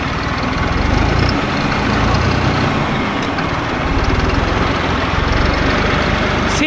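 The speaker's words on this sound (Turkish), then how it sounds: "iyi bir traktör" A heavy New Holland T4.80 tractor engine runs loud and close, a continuous low diesel rumble with a steady chugging rhythm throughout.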